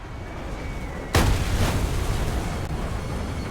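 A missile detonates behind an aircraft in War Thunder, giving one sharp, loud boom followed by a rumbling decay over steady engine and wind noise.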